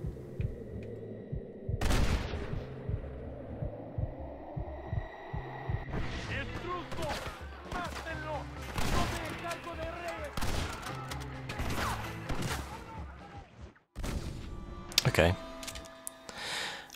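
Rifle shots from the video game Red Dead Redemption crack out in scattered bursts amid game ambience and music, while a soft-spoken voice talks over much of it.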